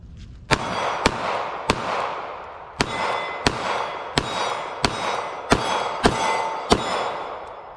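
A Sig Sauer P365 .380 pistol fires ten sharp shots at a range in a steady, slightly irregular cadence, each crack loud and close with a short ringing decay.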